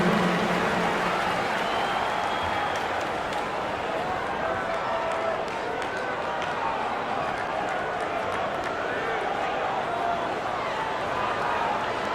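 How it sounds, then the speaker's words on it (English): A basketball arena crowd at a Lakers home game against the Spurs applauds and cheers steadily as the Laker Girls dance team is introduced, a dense and loud roar that carries on throughout. "Let's give a big round of applause."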